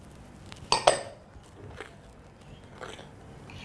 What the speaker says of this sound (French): Et on touille, on mélange. Vous voyez comment ça fait?